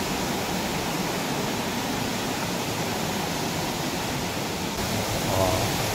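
Steady, broadband rush of Dahoyhoy waterfall in Mauban, Quezon, a continuous full roar of cascading water heard up close, even and unbroken throughout with no voices.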